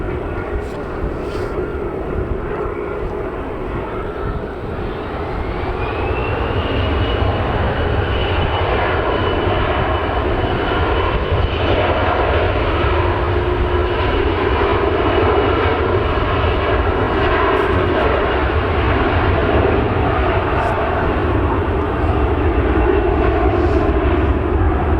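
Loganair aircraft at Manchester Airport, its engines building from a rumble into a loud, sustained roar with a rising whine, heard from the airport side and staying strong throughout.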